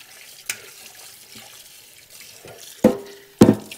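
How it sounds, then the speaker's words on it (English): Cut meat for West African pepper soup rinsed under running water in a kitchen, a low steady trickle broken by a few sharp splashes near the end, with no talking. "You'll just want to rinse that quickly."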